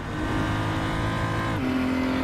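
A race car engine in RaceRoom Racing Experience holds a loud, steady high-pitched drone, then drops in pitch abruptly as it shifts gear, continuing at a constant level.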